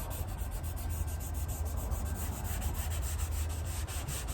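Soft pastel rubbed lightly into paper with a piece of insulation, a steady, close, soft scrubbing hiss that continues evenly throughout without pauses.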